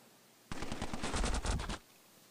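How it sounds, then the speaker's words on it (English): In the mobile game Hunters 2, a rapid burst of gunfire rattles out at an enemy, a dense string of sharp shots lasting just over a second before stopping abruptly. "Now we can start to shoot."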